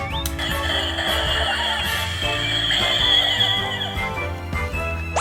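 A DX Dino Brace Abaranger toy plays its electronic transformation sound: a bright, tonal synthetic roar with layered musical tones that runs loud and continuous for about five seconds and ends in a rising sweep.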